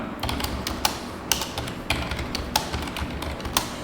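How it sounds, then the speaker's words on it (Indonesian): Fast typing on a computer keyboard, with a continuous stream of close taps and several sharper, louder key strikes spaced about every half second over a steady background hum. "seperti ini Bapak sudah mengetik, kemudian Bapak enter sekali ya"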